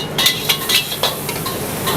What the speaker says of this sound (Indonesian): gua lanjut bikin mie goreng ya. Mie goreng 3 porsi.